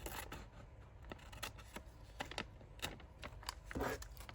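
Scissors snipping through paper for a homemade faux glassine bag, a series of quiet, close, crisp cuts with soft rustling between them.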